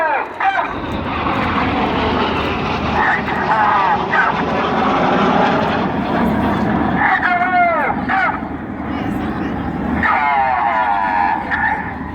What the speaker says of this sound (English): Now look to your right to find the 2 aircraft of the synchro pair.